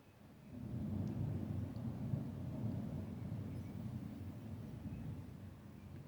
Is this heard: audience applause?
no